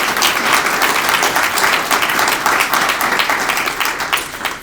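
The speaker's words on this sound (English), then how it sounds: "I think that's something to clap about" A large audience bursts into steady applause at a community presentation, dense and continuous clapping that tapers off at the end.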